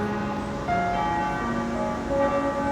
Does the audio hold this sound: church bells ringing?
yes